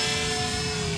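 A Dynam Cessna 310 twin-engine RC model plane in flight gives off a steady, buzzing motor whine with sustained tonal hum, moderately distant and unbroken for about a second.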